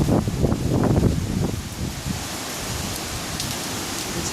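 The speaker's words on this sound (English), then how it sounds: "Rain bands coming through." Heavy rain bands from Hurricane Matthew lash down 55 miles north of Daytona Beach, Florida, a dense, steady roar of rain close to the microphone with some gusty rumble.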